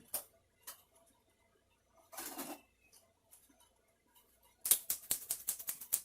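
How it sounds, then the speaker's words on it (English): Scissors snipping through window screen mesh, a quick run of sharp, crisp cuts near the end after a few isolated clicks and a rustle of material, close and moderately loud. "Trusty scissors"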